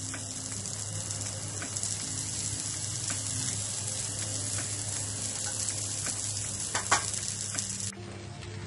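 Sabudana thalipeeth sizzles steadily in ghee on a pan over a medium flame, a constant close frying hiss with a few faint clinks and no talk.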